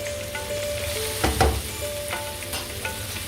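Vegetables stir-fried in a pan with Kashmiri red chili for a veg Chennai pasta, a steady close sizzle with a brief louder burst of frying and stirring around the middle, no talking.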